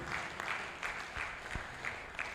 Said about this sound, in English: I think we can make the applause louder for the national president.